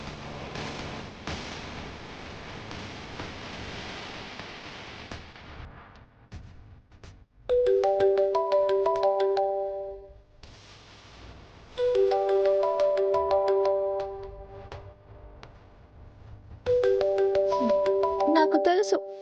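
An incoming call sets off a phone ringtone in three repeated bursts of bright melodic tones with short pauses between them. Before it starts, a person talks under steady background sound.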